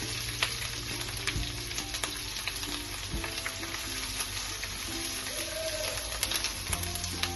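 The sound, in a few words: ginger and garlic frying for prawn pulav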